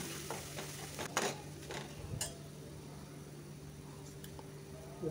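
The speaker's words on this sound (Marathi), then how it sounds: "पेस्ट आपल्याला जाळायची नाही, मंद आचेवर याला परतून घ्यायचे आहे।" Garlic paste sautéing on a low flame for a masala brinjal dish, a steady soft sizzle with occasional scrapes and stirs of a spoon in the pan, close and alone.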